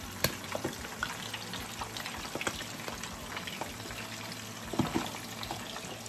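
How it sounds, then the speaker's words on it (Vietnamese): Steady crackling sizzle of chicken frying in hot oil, continuous and close, with occasional louder pops. "Trong thời gian mình chiên gà"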